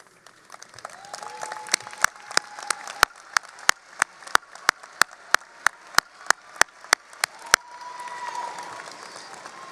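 Applause at the BridgeValley Community and Technical College 2025 commencement ceremony: a soft crowd wash beneath one loud, nearby pair of hands clapping in a steady, evenly spaced beat for several seconds before fading back to murmuring.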